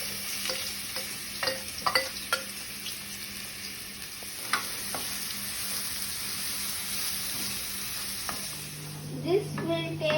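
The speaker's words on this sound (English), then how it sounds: "Now switch on the stove and add some ghee. Add the white grated pumpkin to this." Grated white pumpkin fries in ghee in a pan on the stove with a constant hissing sizzle, broken by occasional scraping clicks of stirring and a brief watery clatter near the end.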